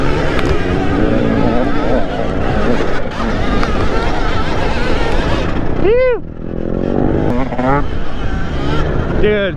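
Loud two-stroke engine from a Sur Ron Ultra Bee electric dirt bike build scene, a motorbike revving and passing close with a rising then falling pitch sweep, over constant wind and outdoor rumble with people talking.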